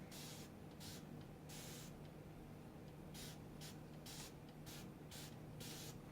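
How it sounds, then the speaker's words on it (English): Quick bursts of hissing water spray from a bottle onto chalk paint on a china cabinet, about a dozen short squirts in uneven clusters, close and fairly quiet. "So let's spray some water."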